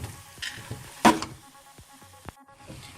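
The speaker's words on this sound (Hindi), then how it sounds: "आपका घी, आपका जो ऑयल है यूज़ किया हुआ है वो अलग होना शुरू हो जाएगा, तब तक हम इसको भूनेंगे।" Halwa roasting in ghee in a pan gives a close, steady sizzle and crackle, broken by soft scraping and stirring knocks and one brief louder hiss.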